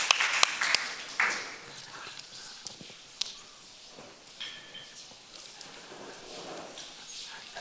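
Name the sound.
audience applause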